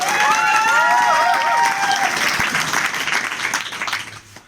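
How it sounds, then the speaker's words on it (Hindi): Loud crowd applause at a Vestige opening ceremony in Sadulla Nagar, Balrampur, for a guest, dense clapping over music that thins and fades toward the end. "मिस्टर अरुण भारती सर के लिए मैं चाहता हूँ जोरदार ताली।"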